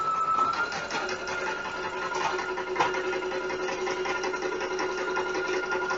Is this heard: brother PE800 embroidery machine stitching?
yes